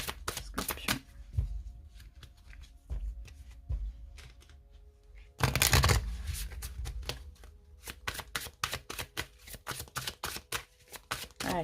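Belline oracle cards being shuffled by hand, quiet rapid flicking and riffling in clustered bursts with brief pauses and one louder flurry midway.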